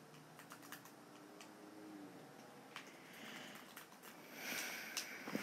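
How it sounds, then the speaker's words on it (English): Quiet computer keyboard and mouse clicking, a run of light taps in irregular bursts, close by in a still room with no talk. "Listen, I'm literally clicking."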